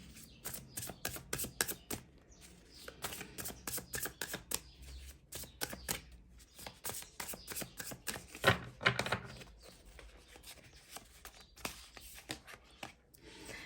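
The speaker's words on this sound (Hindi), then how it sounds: "चलिए अब यहाँ से मैं निकालूंगी 4 कार्ड्स गाइस" Tarot cards shuffled and drawn by hand make quiet bursts of rapid, crisp flicking clicks, close by, with brief pauses between the runs.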